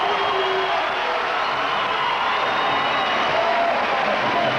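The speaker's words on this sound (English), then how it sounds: "Listen to this crowd." A loud, steady crowd roar fills an arena during a timeout at the 2005 MCC men's basketball title game, a sustained wash of cheering with no breaks.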